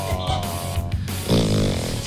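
A man imitates loud snoring with his voice, a few rasping, rhythmic snorts that sit close and prominent, followed by a deeper drawn-out snore-like groan.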